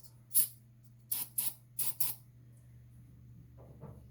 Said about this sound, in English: Now we're just going to go on ahead and give her just a little bit of spray.